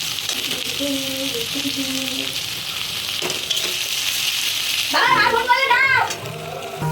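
Onions fry in a pan with garlic for chicken biryani, giving a steady close sizzle with occasional stirring scrapes, partly under a voice speaking nearby.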